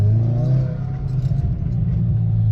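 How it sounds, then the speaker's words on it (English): A manual-transmission car moving off in first gear as the clutch is eased out with light throttle, giving a steady, close low engine hum that rises slightly without revving. "let that clutch slowly out. Give it a little bit of gas"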